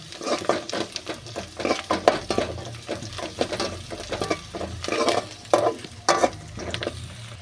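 Dried red chilies fry in a pan with a lively sizzle, and frequent spatula scrapes and stirring clatter rise and fall in quick, uneven bursts right up close.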